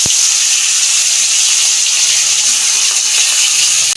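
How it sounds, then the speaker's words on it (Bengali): Fish sizzling in hot oil in a pan, a steady close hiss of frying that holds evenly throughout with no talk over it. "তেল গরম হয়ে গেছে, আমি দুটো করে মাছ ভেজে নেব।"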